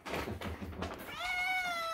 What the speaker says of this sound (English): Happy kitten.